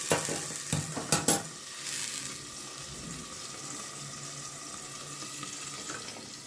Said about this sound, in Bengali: একটুখানি ভেজে নিয়ে আমি একটু নরম হওয়ার জন্য সবজিগুলো চাপা দিয়ে দেবো